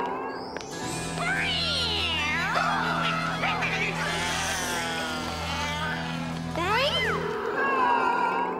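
Cartoon cat meowing loudly several times, long drawn-out wavering cries up close over a steady low engine-like hum.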